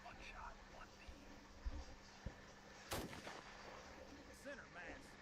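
A sniper rifle shot in the Call of Duty video game rings out once near the middle as a sharp loud crack, with smaller thumps before it over steady low background noise.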